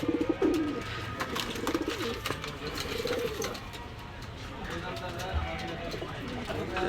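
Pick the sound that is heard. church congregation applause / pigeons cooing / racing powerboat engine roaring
pigeons cooing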